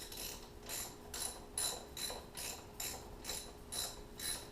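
Ratcheting clicks from tightening bolts into aluminum threads on a cast aluminum bracket of a 2007 Yamaha Wolverine 350, in short regular bursts about every half second, close and fairly quiet, with no talking.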